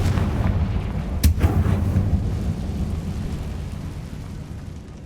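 A Confringo blasting spell goes off in the Hogwarts Legacy game: one sharp, loud blast followed by a rumbling low boom over a steady background drone, with no talk.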